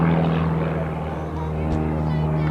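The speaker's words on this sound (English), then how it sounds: "Pulling about 5G into that loop, speed at the bottom back up to about 160 miles per hour." An aerobatic propeller airplane pulls about 5G through a loop, a steady droning engine and propeller roar with a low hum throughout, heard at moderate distance with faint voices underneath.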